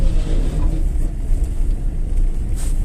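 A VAZ 2108 with a 1.3 engine and a rebuilt, tuned Solex carburetor rumbles loudly from inside the cabin as it drives, its low engine drone steady and close.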